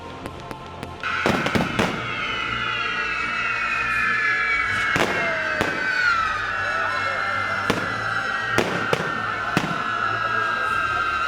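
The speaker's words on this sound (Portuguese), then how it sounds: "culminando na queima do Judas, que, a meu ver, deveria ser mais a explosão do Judas" Fireworks bang and crackle repeatedly over a steady hissing roar, with sharp explosions scattered every second or two amid a noisy outdoor crowd, at a Burning of Judas effigy festival in Spain.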